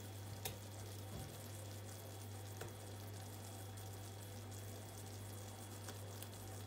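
Onion rings sizzle and fry steadily in a pan, a quiet continuous crackle with a few faint clicks and a low constant hum.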